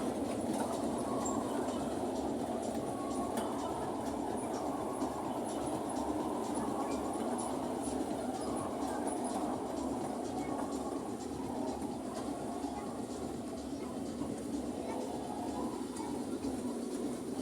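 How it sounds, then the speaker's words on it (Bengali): A children's ride-on toy train runs through a park with a steady rumbling, rattling drone that stays constant throughout, with faint voices in the background. "এখন ট্রেন গাড়ি চলতেছে।"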